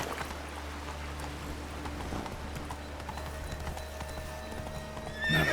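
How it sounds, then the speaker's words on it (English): Horse galloping in The Witcher 3: Wild Hunt, a steady rhythmic clip-clop of hooves with a whinny near the end, close and continuous against a low ambient drone. "Whoa there, Roach."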